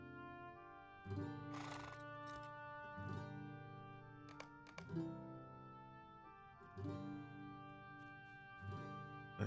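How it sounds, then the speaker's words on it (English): Horse in the video game LOTR Online whinnying several times in a row. The calls are faint, harmonic and repeated at steady intervals, with a soft clip-clop between them. "There's a horse."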